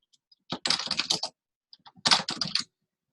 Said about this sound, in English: I'm going to highlight the text, and then I'm going to start typing.